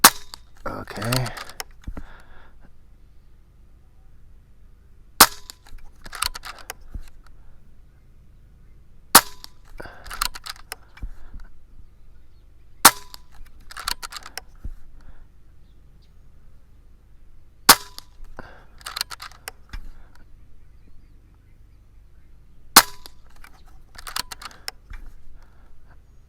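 Air Venturi Avenger air rifle firing JSB Hades .177 pellets outdoors in calm conditions, six sharp isolated cracks a few seconds apart, each followed by bolt clicks and handling noise in near silence.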